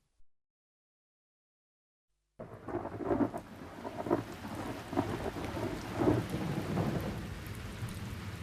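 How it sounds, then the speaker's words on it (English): Steady heavy rain pours throughout a thunderstorm, with several deep rolls of thunder rumbling up over the downpour after a brief silent opening. "The rain fell. Hour after hour it rained."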